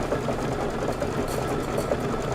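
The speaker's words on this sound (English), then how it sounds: "We're stitching the heart decorative stitch." A Kimberbell project embroidery machine stitches a heart decorative stitch with a fast, even mechanical whirr and rhythmic needle clatter, steady and close, with no talking.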